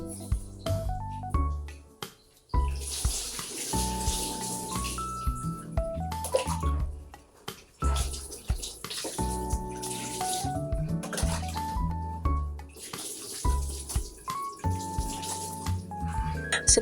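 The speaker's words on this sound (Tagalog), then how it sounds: "winiwisik-wisik ko muna yung tubig mula sa tabo" Water sprinkled and then poured from a dipper over a dog during a bath, splashing steadily for about seventeen seconds with music playing throughout.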